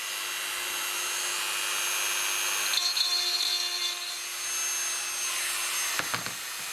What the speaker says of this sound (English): So now we use a Dremel.